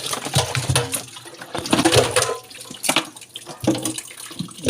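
Water is poured into a small container, a broad splashing wash with uneven surges and brief pauses, close and moderately loud with no talking.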